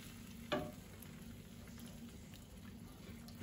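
Tomato sauce for halibut Provencal being stirred and cooked in a pan, a soft, steady sizzle with a single sharp scrape of the spoon near the start, low in level and without speech.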